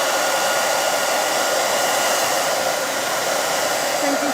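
A hair dryer blows steadily and loudly at close range, an unbroken whooshing roar with no pauses and no talk.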